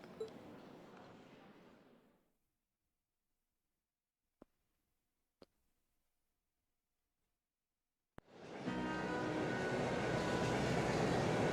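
Train ride in the video game The Legend of Heroes, bound for Garrelia: steady, loud rumbling train noise fills the start, drops to near silence with a few sharp clicks, then returns as a full, dense rolling roar.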